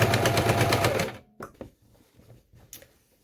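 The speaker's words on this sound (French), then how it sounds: "Donc, je vais coudre à l'extrémité ici, sur les côtés là et sur la dernière en bas." A sewing machine stitching a tote bag strap, a loud rapid needle chatter that stops after about a second. A few soft handling clicks and fabric sounds follow.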